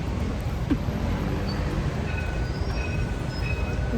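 A Paris metro train rumbles steadily with a dense low roar, thin high wheel squeals surfacing briefly, the ride heard continuously from close by.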